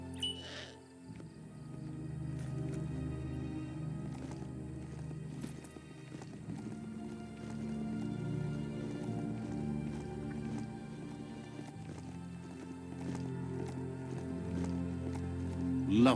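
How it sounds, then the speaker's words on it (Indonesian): Hoofbeats of a riding mount in Biomutant clop in a steady running rhythm, close and continuous, with occasional whinny-like calls over game ambience. "Love to hear a mount's footbeat."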